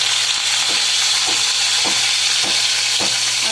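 Cumin, garlic and curry leaves fry in a pan with a steady, loud sizzle, broken by a few soft stirring scrapes at regular intervals; no voices.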